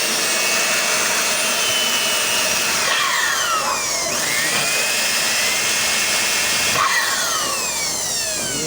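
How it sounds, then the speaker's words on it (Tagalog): A drill runs loud and continuous while cleaning the turbo of a 2017 Ford Everest, a high whining motor whose pitch sweeps and dips briefly a few times as the load changes. "Barena ang gamit."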